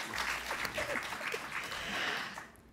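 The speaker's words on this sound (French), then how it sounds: "Je pense qu'ils méritent des applaudissements quand même." Audience applause at an anniversary ceremony on sustainable sporting events, a soft, distant wash of clapping held throughout and tapering off at the end.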